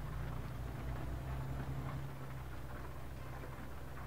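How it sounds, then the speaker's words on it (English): Rain falls steadily in Euro Truck Simulator 2, a soft continuous hiss over the low hum of the truck's engine, quiet and unbroken. "And it started to rain."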